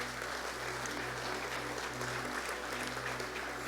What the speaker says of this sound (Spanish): Dale un aplauso al Señor Jesucristo.